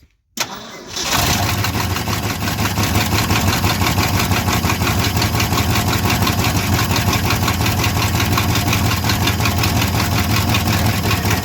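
An old one-ton Ford Bumpside or Chevy Squarebody pickup engine, revived after sitting 20 years, cranks and fires up on gasoline, then runs loud and steady at a rough, rumbling idle close by.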